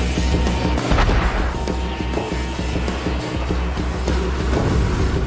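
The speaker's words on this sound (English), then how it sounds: "the spooky crew lock on with the howitzer to take it out" Howitzer firing on an enemy tank in a US Army setting, heard as dense, loud, continuous rumbling blasts and booming gunfire with low-end thumps throughout, no speech.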